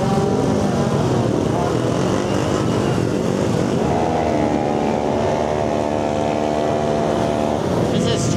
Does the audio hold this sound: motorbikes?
yes